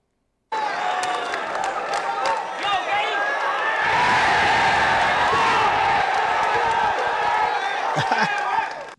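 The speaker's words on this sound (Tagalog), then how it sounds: "nag-wild ang crowd" A rap battle crowd roars with sustained cheering, whoops and shouts that swell loudly after a brief silence and stay dense and close throughout.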